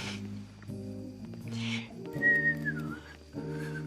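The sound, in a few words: person trying to whistle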